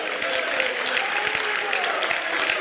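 Church congregation clapping at a fervent Pentecostal worship service, a dense, steady wash of applause throughout with a voice faintly mixed in.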